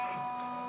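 Multi-needle embroidery machine just starting up, a brief close mechanical whir with a faint tick and tonal hum.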